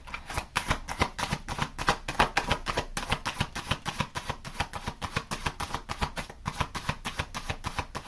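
A tarot deck from the Banned Books Tarot is shuffled close up, its cards riffling in a steady run of quick, crisp flicks and taps that carry on for several seconds without talk.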